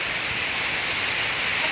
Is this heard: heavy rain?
yes